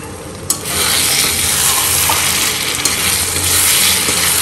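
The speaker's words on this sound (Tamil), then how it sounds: "இதுவும் நல்ல ஒரு கொதி வந்துருது, எண்ணெய் பிரிஞ்சு வந்திருக்கு பாருங்க." Kadarangai (citron) pickle with mustard and fenugreek powder bubbles in a pan with the oil separating, giving a steady close sizzle and occasional sharp ticks with no talking.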